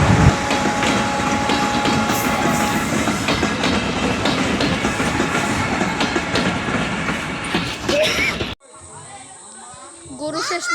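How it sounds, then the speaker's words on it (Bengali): A train rumbles past close by, its rushing clatter loud and continuous for most of the clip before cutting off abruptly, with voices and outdoor noise around it. "দেখি কি এদিক দিয়ে আবার ট্রেন যাচ্ছে"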